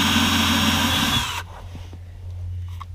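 A power drill whines steadily while pulling a nail from an RV belly pan, then cuts off abruptly, leaving a low hum and faint handling noises.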